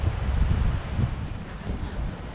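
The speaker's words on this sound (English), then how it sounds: "It is so windy." Strong wind buffets the microphone at a Budapest city viewpoint, a loud continuous low rumble with gusts that swell and ease over a couple of seconds, no voices.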